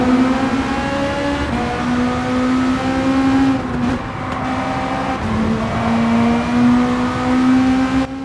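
Race cars, including a Honda NSX, are lapping the Deep Forest circuit in Gran Turismo 7 during a Manufacturers Cup race, with a loud continuous engine drone that rises and shifts pitch as gears change.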